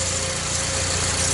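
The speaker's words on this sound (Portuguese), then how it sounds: "tem um barulho bem acentuado aqui na parte de correia" A Honda Civic Si engine runs at idle, a close, steady hum and vibration with a persistent tonal whine from the belt area.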